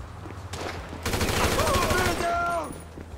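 Automatic gunfire in the video game GTA V on PS3 erupts in a rapid, loud burst of closely spaced shots lasting about a second and a half, over a low game soundtrack, then cuts off.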